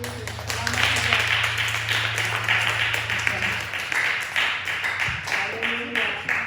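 Congregation at an El Shaddai praise and worship service applauding together, dense clapping that swells and ebbs over a low sustained hum, fairly close and loud.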